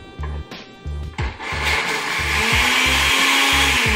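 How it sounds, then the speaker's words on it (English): A blender whirs steadily after a few stop-start pulses, blending raw ingredients for a no-fat raw pizza, the motor rising into a continuous loud drone. "we will put this in the blender first. Now, get it started, make it whir down a bit."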